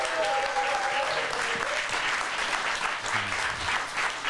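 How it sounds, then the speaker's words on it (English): An audience at a panel event on LGBT issues in a federal election breaks into steady, dense applause, with a brief voice audible at the start beneath the clapping. "So please give them a round of applause."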